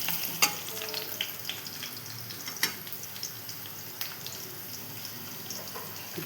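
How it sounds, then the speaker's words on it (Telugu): Onions fry in a pan for a potato and capsicum curry, a steady close sizzle dotted with sharp stirring clicks, with no one talking. "మాడకుండా కొంచెం రట్టించుకొని వేగితే సరిపోతుంది. ఉల్లిపాయ సరిగా వేయకపోతే కూర టేస్ట్ రాదండి."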